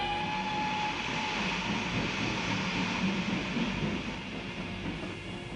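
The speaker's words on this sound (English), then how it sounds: "The troop trains rumbled across Europe, bearing division after division from east to west." Troop trains rolling across Europe, a continuous heavy rumble of wheels and railcars, steady and fairly close, with a faint tonal hum riding on top.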